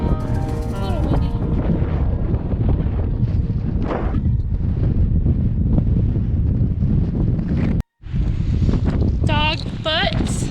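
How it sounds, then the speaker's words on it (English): Strong wind buffets the microphone in steady gusts on a mountain trail near Turquoise Lake, Leadville, with a brief dropout near the end and some faint whistling tones in the background. "A little windy."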